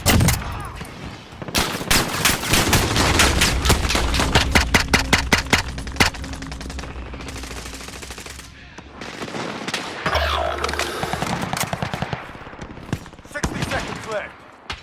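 Rapid automatic gunfire in Call of Duty Warzone, dense bursts of loud shots crackling in quick succession with short pauses, with game voice callouts mixed in.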